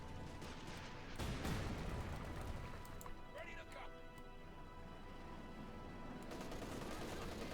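MG34 machine gun fire in the World War II strategy game Company of Heroes 2, rattling in dense bursts amid other battlefield gunfire under continuous commentary.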